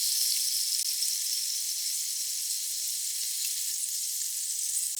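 Eggplant sizzles loudly and evenly in a pan after sake, mirin, sugar and soy sauce are poured in, a bright steady hiss with no voices.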